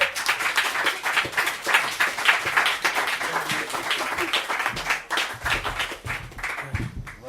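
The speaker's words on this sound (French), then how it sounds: "Je vous demande d'applaudir Pierre Fortin." Audience applause at an inauguration evening, a dense, steady crowd clapping that stays loud and continuous for several seconds, with a few heavier low thumps near the end.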